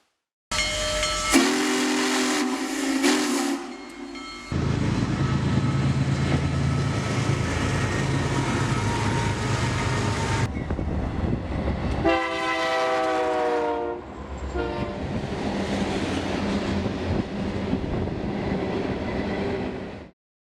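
A loud steam whistle blasts in several long pulls over the steady hiss and chuff of a nearby 0-6-0 saddle tank switcher locomotive, with a higher whistle tone near the end.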